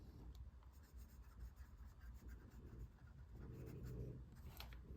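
A medium-nib Esterbrook SD fountain pen scratches softly across paper in quick, continuous strokes, faint and close against a low background hum.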